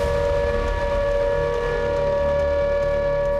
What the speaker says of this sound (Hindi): एस्टोनिया की राजधानी तालिन में अचानक एयर रेड अलर्ट के सायरन गूंजने लगे